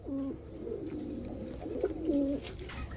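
Lahori pigeons coo nearby in low, throaty, repeated calls, several overlapping over a few seconds.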